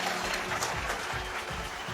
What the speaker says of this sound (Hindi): मैं चाहूंगा कि इन सब लेजेंड्स के लिए एक बार जोरदार तालियां